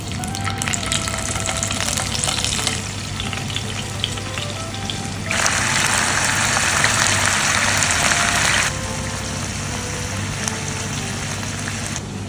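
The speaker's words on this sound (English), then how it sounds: "Paneer has been marinating for 30 minutes and now we're just going to fry them off." Marinated paneer pieces fry in a few tablespoons of ghee, giving a continuous close, loud sizzle that swells into a brighter, denser hiss for a few seconds mid-way before settling back.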